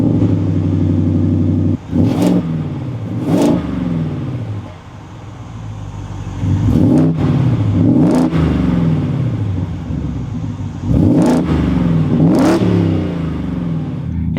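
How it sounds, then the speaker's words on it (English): A 2023 Ford F-150 Raptor R engine sits at a loud, close idle and is blipped in three pairs of sharp revs. Each rev climbs quickly and falls back to a rumbling idle. "let's fire this back up and take a listen to how the Raptor R sounds"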